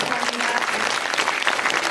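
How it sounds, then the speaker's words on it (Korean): Audience clapping at a Korean barrier-free film festival fills the whole moment, bright and continuous, with no voices standing out. "박수 부탁드립니다"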